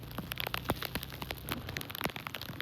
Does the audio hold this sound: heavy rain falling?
yes